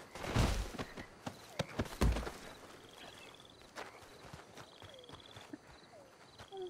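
Horse hooves clip-clop on the ground in a ranch setting, a few louder thuds early then lighter, irregular steps continuing at moderate distance, with faint chirps in the background.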